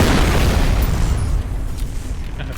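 A loud, dense blast of explosion noise in the game F.E.A.R. roars at the start, then slowly tapers into rumbling with scattered crackles.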